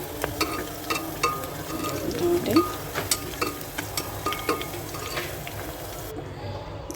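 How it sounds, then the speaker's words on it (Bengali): Onions frying with marinated mutton in a pot for a mutton and pulao meal, giving a steady close sizzle broken by repeated scrapes and clinks of stirring, with a brief word spoken. "মাংসটা ম্যারিনেট করা হয়ে গেছে এতে পেঁয়াজ অনেকটাই ভাজা হয়ে আসছে"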